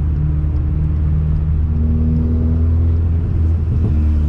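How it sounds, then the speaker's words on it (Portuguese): Car with an aftermarket exhaust revving loudly and close, a deep continuous engine rumble with some irregular crackling pops near the end and no voices. "Eu gostei dos tiros desse carro."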